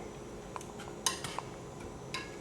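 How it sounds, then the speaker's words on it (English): A spoon clinks and scrapes against a pan while crab meat mixture is stirred, a few light metallic taps spaced irregularly over a quiet background. "Okay, and we're going to stir that together."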